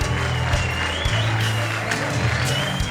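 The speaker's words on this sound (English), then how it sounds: "Round of applause for Ishmael, please." Applause from a studio audience welcoming a podcast guest, steady and continuous through the clip and mixed with low, droning music.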